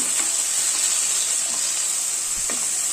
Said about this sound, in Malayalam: ഈ തക്കാളി ഒന്ന് നന്നായിട്ട് വഴറ്റി കൊടുക്കണം